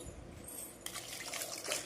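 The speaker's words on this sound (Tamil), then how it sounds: "இப்போ குக்கரில் போட்டு" Water is poured into a metal pressure cooker, a brief splashing gush that grows louder over a couple of seconds.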